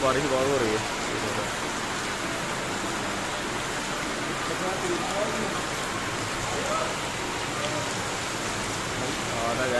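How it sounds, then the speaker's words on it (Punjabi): Heavy rain in Himachal Pradesh pours down in a steady, dense hiss that fills the whole stretch, with faint voices murmuring underneath. "ਬਾਰਿਸ਼ ਬਹੁਤ ਹੋਣੀ ਤੇ ਮੀਂਹ ਪੈਂਦਾ ਪੂਰਾ ਫੁੱਲ"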